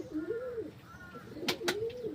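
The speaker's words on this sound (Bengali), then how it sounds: "কবুতর একটা ফার্মের মতনই ছোটোখাটোভাবে করছি।" Pigeons at a small home pigeon farm give soft, rolling coos, a few close, quiet calls with a couple of sharp clicks or wing taps between them.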